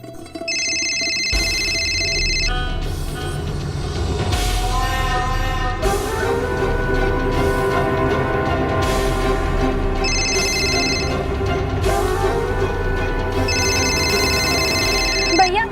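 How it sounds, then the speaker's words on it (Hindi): A telephone rings unanswered, with repeated bursts of electronic ringing separated by pauses across the whole stretch, heard over background music and a dramatic score. "फोन नहीं उठा रही है।"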